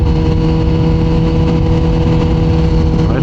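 Kawasaki ZX14R motorcycle engine droning steadily after a downshift to second gear while riding, a loud, constant mid-pitched hum with wind noise throughout and no talking.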